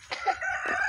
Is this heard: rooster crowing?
yes